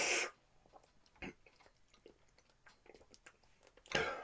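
Crackers being bitten and chewed up close, with a loud crunch at the start and another near the end and softer chewing and munching in between.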